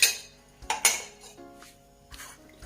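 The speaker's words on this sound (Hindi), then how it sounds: "इसको हम अच्छी तरह मिक्स कर लेंगे" Onion, tomato, capsicum and spices being mixed in a pan, heard as sparse metal spoon clinks and scrapes against the pan with quiet gaps between them, close, with no sizzle or talking.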